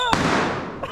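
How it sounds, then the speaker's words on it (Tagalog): A firecracker bursts under a bridge during New Year celebrations, one sharp, loud bang near the start followed by a long decaying rumble and a smaller pop near the end. "Hinawakan yung paputok ko."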